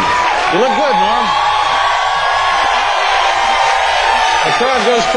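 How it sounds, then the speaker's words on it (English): Late-night talk-show studio audience cheering and whooping loudly for comedian Norm MacDonald's entrance, a sustained roar of applause with rising whoops and yells, and a voice cutting in briefly at the start and end. "The crowd goes crazy."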